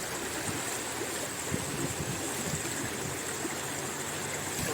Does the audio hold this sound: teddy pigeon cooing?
no